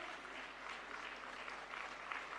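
Quiet, steady applause from the audience at the inaugural session of Yoga Connect 2025, organised by India's Ayush ministry, a soft, continuous patter of many hands heard at a distance for a couple of seconds.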